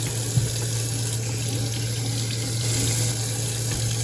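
A kitchen tap runs steadily as lettuce and peppers are rinsed under it, a constant loud rush of water with a faint low hum beneath and a small splash early on.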